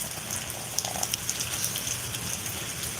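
Rain falls steadily in Tennessee with a soft hiss and occasional sharper drips and taps, no voices.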